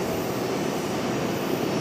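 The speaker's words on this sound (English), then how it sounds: "We've got American Airlines 1982 coming in from Tampa." An American Airlines jet airliner arriving from Tampa at Charlotte roars as a steady, loud broadband rumble, continuous for the whole stretch with no voices.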